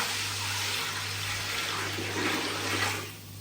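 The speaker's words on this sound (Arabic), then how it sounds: "بعد ما خرطت الفراخ خرط حلوة كده زي خرط الكنافة، هنفضي عليها شوية مية" Water pours steadily from a tap over shredded chicken to rinse it, a continuous close hiss and splash with a low hum underneath, tapering off at the very end, without talk.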